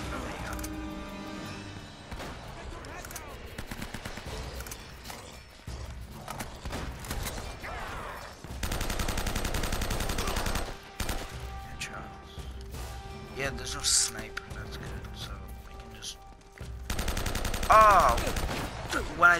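Gunfire in Uncharted: Drake's Fortune comes in scattered bursts and single shots mixed with game music, effects and someone talking over the action.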